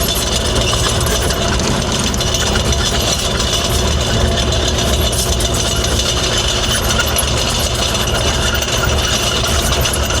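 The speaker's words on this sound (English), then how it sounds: "it's going to take a minute for the hydraulics to warm up" Kubota KX040-4 excavator idling steadily in cold, damp weather while its hydraulics warm up, a constant near mechanical drone with light rattling throughout and no talk.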